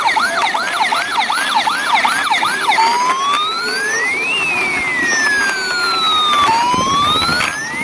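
An electronic toy siren warbles rapidly at first, then shifts to a slow rising and falling wail, loud and close, with no voices.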